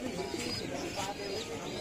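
Pigeons at a busy pigeon market in Kumarkhali, Kushtia, giving soft low coos amid a constant crowd murmur, with faint chirps and voices mixed throughout.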